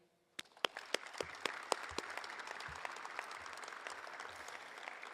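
Applause from a crowd at a university women's basketball coaching introduction begins with a few sharp individual claps, then builds into steady, moderately distant clapping that continues to the end.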